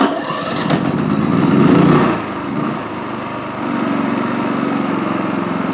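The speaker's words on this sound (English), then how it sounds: "When you've got it started up, move it all the way to the off or auto off position, and now it's running off the remote tank entirely." A Wen 3800 portable generator fitted with an extended run fuel kit starts up close by, the engine catching and surging loudly before settling into a steady, droning run off a remote tank.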